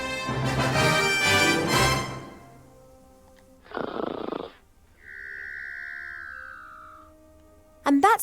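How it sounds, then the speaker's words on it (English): Cartoonish snoring from a character in the video game The Book of Unwritten Tales 2, a few slow snores with wheezy, whistling breaths, faint and playing alone after a burst of game music. "And that's the sound of Cheep Cheep snoring."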